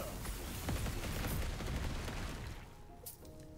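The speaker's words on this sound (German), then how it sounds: "Man hat große Explosionen, da brauche ich natürlich diese Explosionen." Meteor spell explosions from a Meteor Sorcerer build in Last Epoch, a dense run of booming blasts and bursts overlapping loudly for a few seconds before thinning out.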